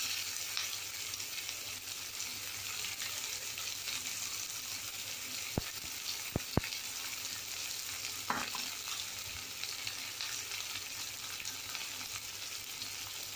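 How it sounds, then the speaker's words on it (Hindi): Sliced onion fries in hot oil in a pan with a steady, fairly quiet sizzle throughout, broken by a few sharp clicks of a spoon or spatula stirring. "अभी इसमें एक प्याज सुखाड़ी हिसाब से डालना है।"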